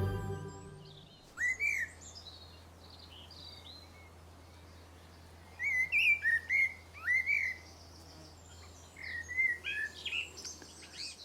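A blackbird sings in a quiet garden. Short bursts of fluting, warbling phrases come in three separated clusters over a soft low hum, moderately near and fairly faint, with no talk.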